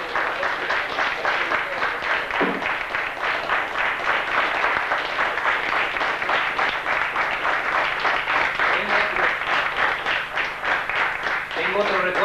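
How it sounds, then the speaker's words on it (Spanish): Sustained audience applause at a cultural-centre event honouring the president of the Casa de la Cultura, steady dense clapping filling the room throughout with a few voices mixed in. "Quisiera pedirle a esta gente que le brinden un aplauso"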